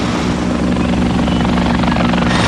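A rescue helicopter on a medical emergency call thunders close by, its rotor beating in a loud, steady, dense roar that holds throughout with no voices.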